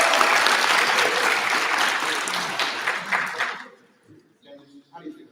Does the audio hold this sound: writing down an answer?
no